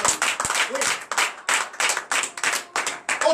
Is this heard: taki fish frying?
no